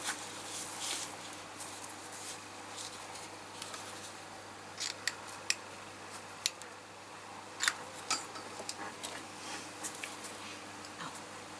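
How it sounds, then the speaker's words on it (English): Scissors cutting craft material for shabby Christmas decorations, a series of sharp snips and ticks scattered over a steady low hum, with no talk. "Where's my scissors? Oh, okay. I'll cut it there."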